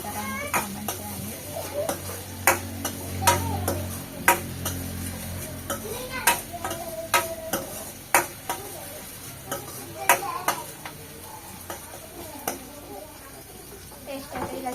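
Food frying in a pan ahead of added coconut pieces, a soft sizzle under repeated sharp ladle taps and scrapes against the pan, with a voice speaking at times.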